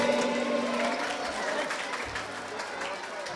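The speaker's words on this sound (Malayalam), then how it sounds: "നിർത്താതെ കയ്യടി" Sustained audience applause at a school prize distribution ceremony, a dense steady wash of clapping with crowd noise throughout, fairly near and loud.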